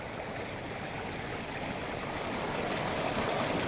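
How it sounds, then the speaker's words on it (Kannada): Water from a borewell gushes out hard, making a steady, loud rushing roar that continues unbroken, with no voices. "ಸಾಕಷ್ಟು ನೀರು ಪೋಲಾಗುತ್ತಿಲ್ಲಿ, ತುಂಬ ಜೋರಾಗಿ ಹರಿದೋಗುತ್ತೆ"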